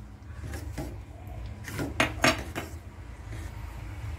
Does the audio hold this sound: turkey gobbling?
no